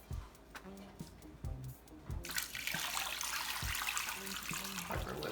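A few clinks of cookware come first, then water rushes steadily from a tap into a pot holding chicken breast, a continuous splashing pour with occasional knocks underneath.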